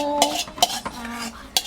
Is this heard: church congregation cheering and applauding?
no